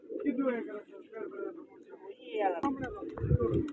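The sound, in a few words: pigeons cooing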